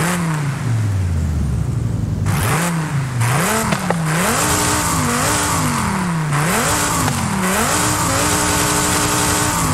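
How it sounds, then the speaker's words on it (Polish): A Dodge Viper's engine and exhaust in Forza Horizon 5 rev and rise in pitch through repeated gear changes, the loud, close drone dipping and climbing again with each shift. "jak inny wydech będzie brzmiał w Viperku, no nie?"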